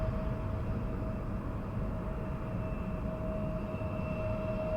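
An Embraer jet roars steadily in the distance, a broad, sustained rumble carrying a faint steady whine, heard alone with no talk.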